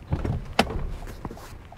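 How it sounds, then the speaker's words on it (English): The rear door of a 2021 Toyota Highlander Platinum opens with a near mechanical clunk and latch release, followed by softer rustles and a brief thud. "So once you go through the back door here, you fold it down."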